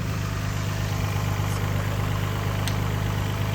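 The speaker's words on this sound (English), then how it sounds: "It's the factory engine. It's never been replaced." A Nissan VQ35 engine in a drift truck idles steadily up close, a low continuous rumble with a faint ticking texture and no voices.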